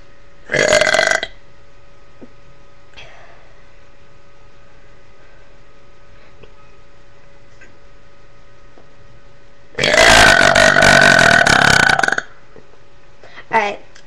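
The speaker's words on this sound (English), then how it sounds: "So I hope you enjoyed the burps" Two long, loud, deliberate burps close to the mic, one short and one drawn out, followed by a brief third burp, with near silence between them.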